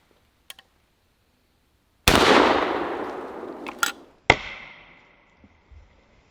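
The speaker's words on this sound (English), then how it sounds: "Ithaca M66. Let's take out the 2 liter on the left with this guy." An Ithaca M66 shotgun blasts a 2-liter bottle in an outdoor shooting session, a sharp loud report with a long echoing decay, followed by a second crack and fading rumble; faint clicks beforehand, no talking.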